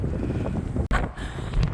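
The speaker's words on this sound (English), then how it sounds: "At this point, it's pretty windy" Steady wind buffeting the microphone on the Historic Columbia River Highway State Trail, a loud rumbling roar with brief gusty surges and a short dropout midway.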